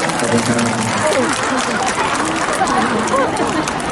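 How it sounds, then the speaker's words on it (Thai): An audience at an outdoor mini concert during the ISAN Smart Farm Smart Food fair in Korat claps continuously, a loud, even wash of applause blended with crowd chatter and a voice talking over it. "ปรบมือให้น้องหน่อย"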